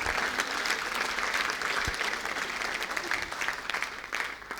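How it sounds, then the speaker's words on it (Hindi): Sustained applause from a live audience at a comedy or stand-up show, dense steady clapping filling the whole stretch without letting up. "ताली बजाओ, ताली बजाओ, ताली ताली जोरदार बजाओ ताली।"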